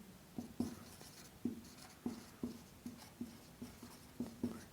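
A teacher writes words on a board during a practice class, with a sequence of close, distinct taps and scratchy strokes in an uneven rhythm of about a dozen marks.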